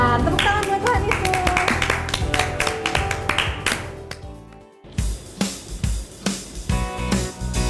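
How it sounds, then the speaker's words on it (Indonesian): Hands clap rhythmically and repeatedly during a children's church worship service, the claps crisp and close, set against music, with a short pause partway through before the clapping resumes. "Tepuk tangan buat Tuhan Yesus."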